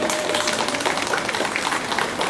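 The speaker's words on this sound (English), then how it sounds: "What about a round of applause for Miss Macy?" A round of applause for Miss Macy at a kids' horse camp, a short burst of many hands clapping at once, fairly close and lively, steady for a couple of seconds.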